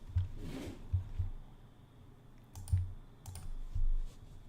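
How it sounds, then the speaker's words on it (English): Quiet, close keystrokes tap out on a computer keyboard in scattered, irregular clusters, with soft clicks and pauses between bursts and no voices present. "I'm going to let you hear me typing."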